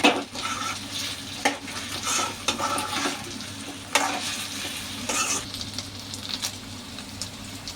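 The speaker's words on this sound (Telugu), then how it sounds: "వేసి ఇవి కూడా కొంచెంసేపు బాగా మంచిగా ఎగుతాయి దుంపలు" Taro root pieces sizzle steadily in a pan for a curry, with soft frying hiss throughout and occasional stirring scrapes and clatters, and no one talking.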